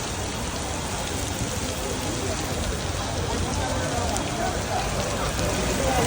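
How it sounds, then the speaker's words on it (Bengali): Heavy downpour with hail lashing down in Dhaka, a dense, steady roar of rain and pelting ice across the whole stretch, loud and close with no break. "বৃষ্টির সাথে শিল পড়তেছে"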